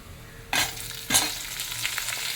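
About 100 grams of mixed small and large onions go into a pan with browned whole urad dal for a hotel-style chutney, two sharp bursts of sizzling followed by steady frying and stirring, close and without voices.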